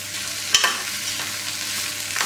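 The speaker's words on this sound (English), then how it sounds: "I make a super fast onion chutney with 4 medium-sized onion that I roughly chop in a pan with 4 green chilies that I have chopped, and I saute it for a minute" Roughly chopped onions and green chilies sauté in a pan for onion chutney, giving a steady soft sizzle with a brief spatula scrape near the start.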